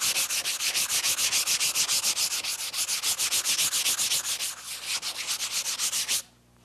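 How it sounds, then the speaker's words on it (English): A painting surface is lightly hand-sanded before priming, rapid rhythmic back-and-forth rasping strokes, close and steady, ending abruptly into quiet. "I'm going to make a very slight sanding of this."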